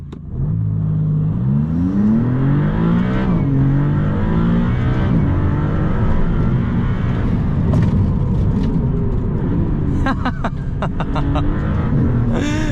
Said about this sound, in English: I'll give you a standstill acceleration in Corsa mode